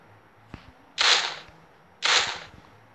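Two loud sniper rifle shots in the video game Counter-Strike, about a second apart, each a sharp broadband crack with a short decaying tail, preceded by a faint click and quiet background game noise.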